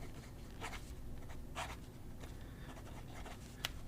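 A Hongdian fountain pen with a bouncy, very fine nib scratches faintly across paper in a few short, close strokes, with quiet room hiss between them.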